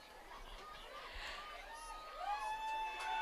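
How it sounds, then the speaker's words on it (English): Crowd noise from spectators at a high school football game between Howard and Delaware Military Academy, a distant murmur of chatter and cheering that swells slightly, with a few whistle-like tones above it. "You hear the crowd."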